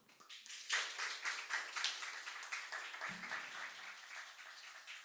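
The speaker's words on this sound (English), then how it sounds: "call for a long round of applause" A conference audience applauds the speakers, a moderately faint, steady patter of many hands clapping that continues evenly for several seconds.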